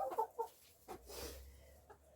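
Backyard hens give a few quiet, close clucks at the start, followed by faint shuffling and breathy noise in a calm enclosure.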